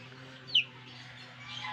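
A single short chirp from a sick breeding hen sounds once over a low, steady hum, otherwise quiet.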